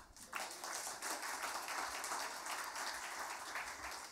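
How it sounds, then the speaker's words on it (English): Audience applause at a conference talk, a dense wash of steady clapping that starts abruptly and continues evenly throughout, fairly faint overall. "we need to give him a good applause once again"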